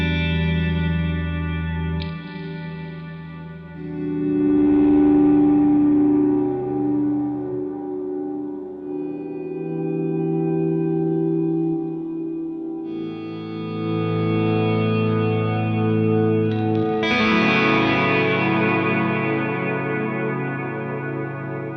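Guitar run through an MXR M300 reverb pedal, with sustained chords blooming into lush, wide ambient washes and long echoing tails, swelling and fading in several loud passages with no talking.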